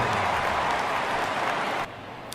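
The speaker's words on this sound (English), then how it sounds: "So nice ovation from the target-filled crowd for Wil Myers." Video game crowd ovation for a batter in MLB The Show 18 at a Minnesota Twins home game, a dense, steady wash of applause and cheering that cuts off abruptly near the end.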